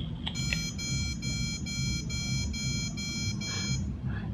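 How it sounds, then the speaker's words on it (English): A rapid series of about eight high electronic beeps in an even rhythm over a low hum, close and clear. "Count the number of beeps and you've got 8 watts."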